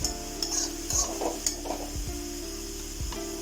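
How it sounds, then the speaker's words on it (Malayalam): A spoon stirs pumpkin leaf thoran in a pan. Soft scraping strokes sound at irregular intervals over a faint, steady sizzle and background hum. "ഒന്നാണ്ട് ഇളക്കി കൊടുക്കാം"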